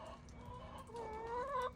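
Chickens cluck softly in a backyard homestead coop, a hen settling in a nest bed to lay eggs, the low murmuring calls rising into a slightly louder drawn-out cluck toward the end, with faint background noise.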